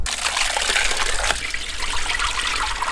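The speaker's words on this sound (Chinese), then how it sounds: "准备点这小油菜，把它清洗一下" Small bok choy greens being rinsed under running water, a steady close splashing trickle lasting throughout with no talk.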